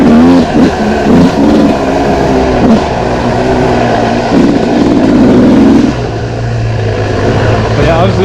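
Yamaha YZ dirt bike, a YZ125 or a 1999 YZ250, putters along and then revs with strong power. The engine drones loud and steady throughout, its pitch rising and falling, with talk faintly under it.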